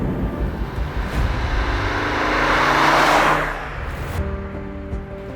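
An Audi Sport Quattro with 7,000 original miles drives by loudly, its engine note swelling as it accelerates and passes close, then settling into a steadier hum as it moves away.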